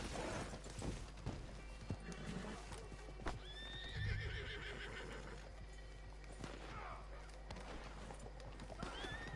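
A horse whinnies in the Western video game Red Dead, its high, wavering neigh rising over hoofbeats and busy game background noise, near and fairly loud.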